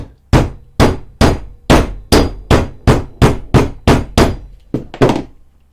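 Around a dozen sharp hammer taps strike a setting tool, fitting a snap fastener into a damp leather coin purse. They come in a steady, close, loud rhythm with no talking.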